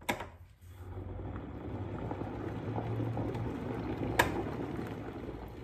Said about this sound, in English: Step 1, boil your kettle.